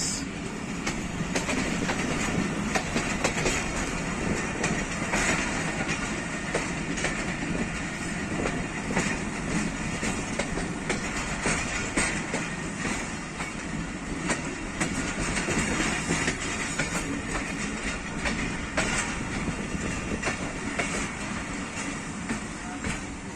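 The Pakistan Express passenger train runs along the track near Sukheki, a continuous loud rumble with rhythmic clickety-clack of wheels over rail joints, steady for the whole stretch.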